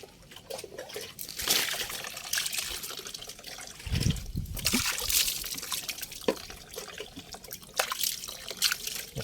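Water splashes and trickles off a Honda Click V2 scooter while it is being washed, coming in irregular dribbling bursts and drips with brief louder sloshes, close by.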